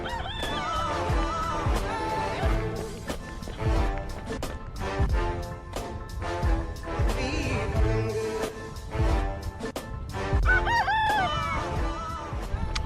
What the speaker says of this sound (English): Wild chickens?